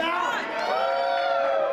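A crowd at a wrestling event at Camp Leapfrog cheers and whoops with rising and falling voices, close and fairly loud, continuing steadily for a couple of seconds.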